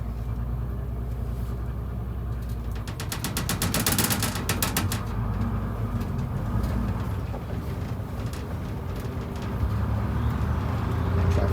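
Truck powered by a Detroit Diesel 6-71 engine pulling uphill on a cold morning, a steady loud diesel drone with a burst of rapid rattling clatter partway through, continuous throughout.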